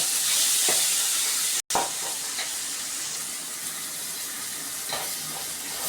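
Pidikarunai (elephant foot yam) kara kuzhambu ingredients with coriander sautéing in a pan: a steady, close sizzling hiss with occasional stirring scrapes and a brief dropout midway.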